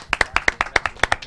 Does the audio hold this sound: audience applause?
yes